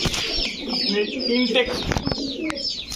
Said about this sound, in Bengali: প্রতিটা কবুতর ডাকাডাকি করতেছে